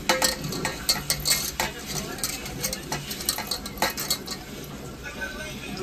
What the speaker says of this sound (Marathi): आता रवा लावून आम्ही डायरेक्ट फ्राय करायला घेतली